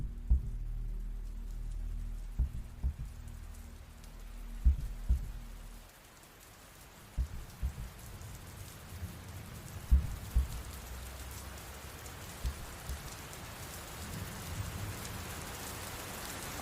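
Steady, faint rain falls by a building with weeds beside it, a soft continuous wash broken by scattered louder drips and taps from nearby surfaces, with no voices.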